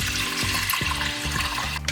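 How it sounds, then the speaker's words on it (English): Water pours steadily into a pot of rice for Danish rice porridge, a continuous close splashing stream lasting about two seconds, with no talk. "so now we're gonna add 2 deciliters of water."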